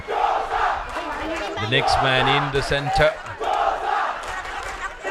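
A schools rugby crowd roars and chants for the blue and whites, a loud, sustained wall of voices and cheering with a commentator talking over it.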